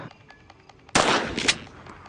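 Gunfire in the Granny 2 horror video game: a sudden loud burst of shots that stays dense for about half a second and then tails off, following quieter background game sounds.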